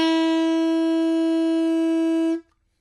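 Saxophone blown by a beginner without any fingering, a single steady open note sustained for over two seconds and then cut off into silence, close and alone.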